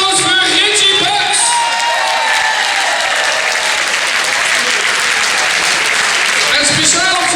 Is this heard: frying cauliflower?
no